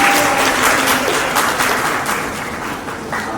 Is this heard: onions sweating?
no